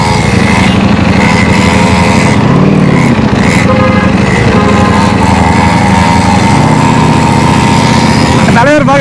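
Loud Ducati motorcycle engine roaring steadily through a power wheelie, with a continuous high-revving drone and a rising note near the end, mixed with voices talking over it.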